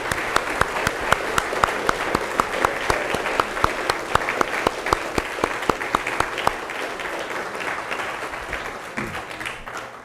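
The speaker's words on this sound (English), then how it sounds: "So give yourself a round of applause." A hall full of students at a University of King's College matriculation ceremony applauds: dense, loud, continuous clapping that holds steady for several seconds and then gradually thins out.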